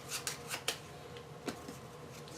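A deck of cards is shuffled during a tabletop game of Monumental, giving a quick run of crisp riffling snaps up close, then a few softer scattered flicks.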